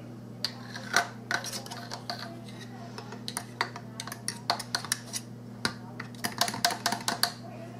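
A fork taps and clinks against a dish in quick, irregular light ticks, close and fairly quiet over a steady low background hum.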